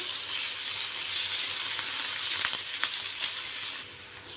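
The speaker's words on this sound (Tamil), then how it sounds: "நம்ம கட் பண்ணி வச்ச வெங்காயம் போட்டுக்கலாம். வெங்காயம் கொஞ்சம் லைட்டாக வதங்கட்டும்." Chopped onions and garlic sauté in a hot pan with an even, continuous sizzle. A few light utensil clicks come in the middle, and the hiss drops slightly toward the end. No voices are heard.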